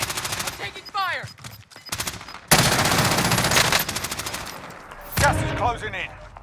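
Bursts of rapid automatic gunfire from a battle royale video game, some close and loud and others more distant, with swooping effect tones between volleys.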